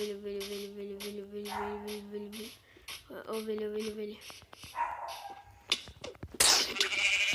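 Sheep in the Minecraft video game bleat twice in long, nasal calls over game sounds, and someone talks quietly alongside them.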